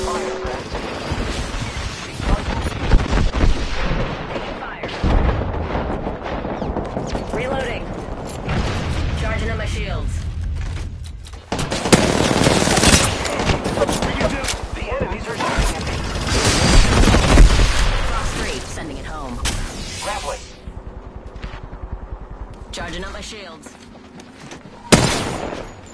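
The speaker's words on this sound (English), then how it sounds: "Taking fire, brother." Video game combat with dense gunfire: rapid automatic bursts and scattered shots over about half a minute, loud and busy, with people talking over the action.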